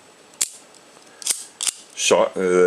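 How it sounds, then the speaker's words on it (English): A Kiev 30M subminiature Russian spy camera gives a few short, crisp mechanical clicks as its shutter is cocked and film advanced. A louder ratcheting burst follows near the end, close and otherwise quiet. "action is cocking the shutter and advancing the film"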